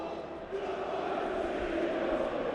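Football stadium crowd at a German third-division match between Jahn Regensburg and Dynamo Dresden, a dense, steady roar of disapproval after a late challenge, loud and continuous throughout.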